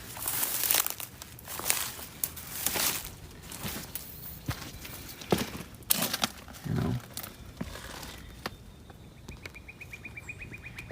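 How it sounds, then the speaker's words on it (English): Footsteps crunch through dry sticker briars on a farm, brittle crackling and rustling with each stride, close and uneven, with a faint bird note near the end. "I'm walking through some sticker briars."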